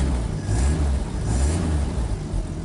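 An old car engine runs steadily up close, giving off a continuous low rumble with a broad hiss above it and slight swells in level over a few seconds.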